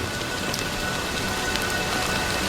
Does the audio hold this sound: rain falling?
yes